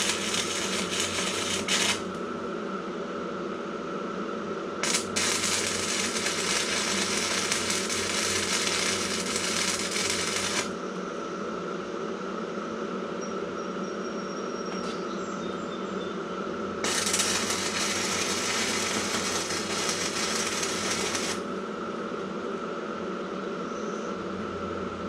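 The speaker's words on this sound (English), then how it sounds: "this is going to be my first one doing stick welding with it" Stick welding on a tractor bucket: a steady crackling, sizzling arc runs nearly throughout, with brief breaks where the arc stops and restarts, close by and with no talking.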